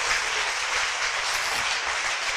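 Church congregation clapping, a loud, steady roar of many hands that stays even and close throughout with no talk over it.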